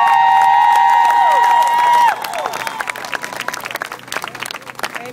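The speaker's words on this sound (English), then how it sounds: "Give them a round of applause for them coming out" Audience applause at a rally, a scatter of clapping that rises out of a sustained electronic tone and continues unevenly to the end, with no voices over it.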